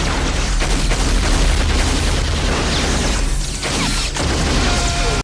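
A missile launcher fires amid a dense, loud film action scene in The Fifth Element, with continuous booming blasts and crashing mechanical noise layered together and only a brief dip before the roar resumes.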